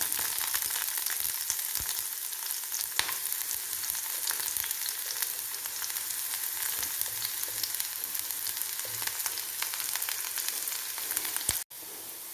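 Steady, dense sizzling of small onions frying in hot oil, loud and continuous throughout, with occasional faint pops and clicks.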